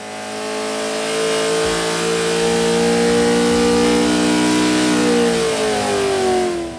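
Racing car engine revving on a dyno in a test room, a loud sustained roar climbing steadily in pitch, then falling away as the revs drop near the end.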